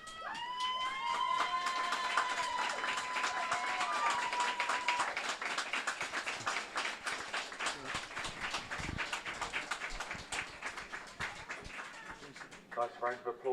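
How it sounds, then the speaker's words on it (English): Applause for the photographer at an under-15 girls' cup final, with a crowd clapping steadily and fairly close for several seconds, a tonal whistle-like sound early on, and the clapping thinning out toward the end. "Nice round of applause for our photographer there."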